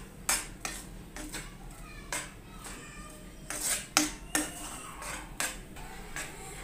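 A spoon scrapes and knocks against a pan while stirring a thickening milk powder paste, with irregular metallic clinks and scrapes close by.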